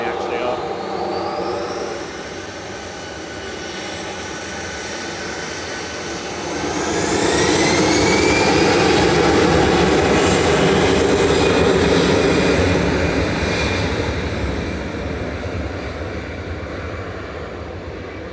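A Virgin Airbus A350-1000 jet on final approach to Manchester Airport swells from a distant hum into a louder roar with climbing whine tones about halfway through, holding strong before easing slightly, with people talking now and then.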